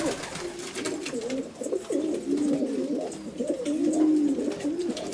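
Racing pigeons coo over and over from close by, their low, throaty calls overlapping in a steady murmur of the flock with no pauses.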